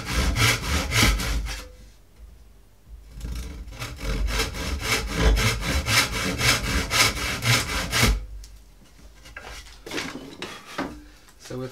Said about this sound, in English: So just going to saw through the trigger notch.